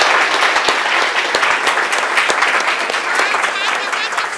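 Loud, close audience applause at a youth competition closing ceremony for a prize winner, dense clapping with sharp individual claps standing out and some crowd voices underneath.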